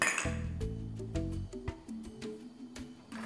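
Bright metallic and glassy clinks ring out as butter and sugar go into a pan of half and half warming over medium-high heat for spiced chocolate sauce. Several sharp taps land irregularly, each with a short ringing tail, close and moderately loud.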